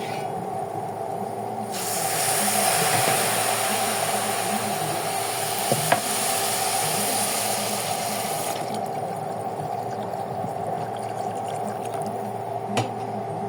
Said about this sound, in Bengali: এখন এই পর্যায়ে পানি দিয়ে দিব।